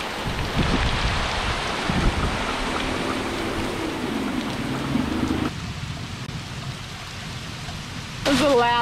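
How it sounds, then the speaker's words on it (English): Steady heavy rain hisses throughout during a storm over a sailing boat under repair, loud and close, with voices talking over it for much of the time. "Just started pouring rain, bit of a storm"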